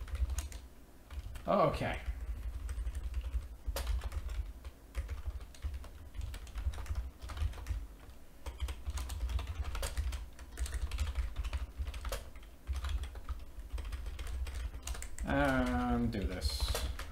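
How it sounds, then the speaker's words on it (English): Steady clatter of a computer keyboard being typed on during a Lisp programming session, close and continuous, with someone briefly speaking over it. "it was easier just to type that out"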